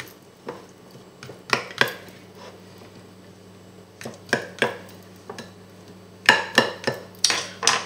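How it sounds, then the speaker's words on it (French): A fork pricks sausages on both sides while oil heats, making sharp, irregular metallic clicks and taps on a plate in small clusters, close by over a steady low hum. "Pendant que l'huile chauffe, nous piquons nos saucisses des deux côtés."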